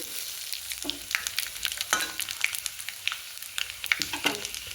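Tomato and panch phoron fry in a pan during a home cooking session, giving a steady sizzle with sharp crackling pops and stirring scrapes throughout, close and clear with no talk.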